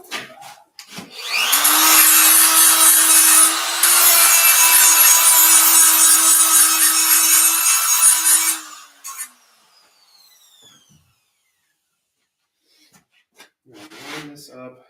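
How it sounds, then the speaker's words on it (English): Metal tractor pieces are ground clean: a loud, harsh abrasive whine holds steady for about seven seconds with a brief dip, then cuts off into near quiet, with a little faint clatter at the end. "First I got to grind these all nice and clean."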